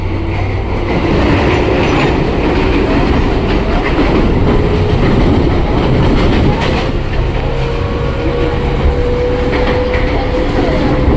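A KRL commuter train pulls out from platform 2 of Cilebut station on the Depok–Bogor line, giving a loud, steady rumble and rattling clatter throughout, with a faint high wheel squeal drifting in and out.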